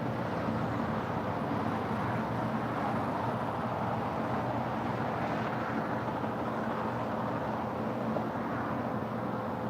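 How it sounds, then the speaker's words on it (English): A Finnair Airbus A350-900 heavy jet on arrival at LAX, heard as a steady, fairly faint, distant engine roar that stays even throughout. "Finnair and special livery, the A350-900. She is the next heavy arrival up there on the north side."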